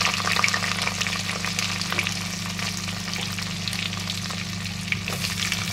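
Two onions frying in a clay pot for chicken biryani, giving a dense, loud, steady crackling sizzle that holds evenly throughout, close up and with no one talking.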